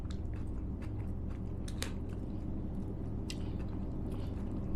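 Close, soft crunching bites of creamy cabbage coleslaw, scattered quiet crisp chews over a low steady background hum, with no talking.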